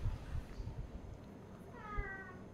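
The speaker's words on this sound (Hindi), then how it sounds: "ये बिल्ली है, बिल्ली स्टेयर कैट यानी बाहर घूमते रहने वाली बिल्ली" A stray cat gives a single soft meow near the end, faint against a low murmuring background.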